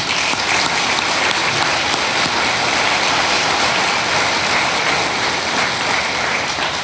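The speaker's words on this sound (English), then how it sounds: "Round of applause for Tom." A gala audience at an alumni awards evening applauds in a thick, continuous wash of clapping that fills the room evenly from start to finish, loud and unbroken, with no voices on top.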